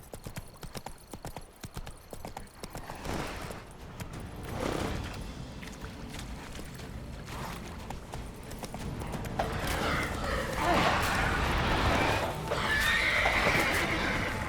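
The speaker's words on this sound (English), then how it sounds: "You just scared my horse." A horse neighs and whinnies in The Witcher 3 video game, with hoofbeats clopping around it; the agitated calls swell louder toward the end amid game sounds.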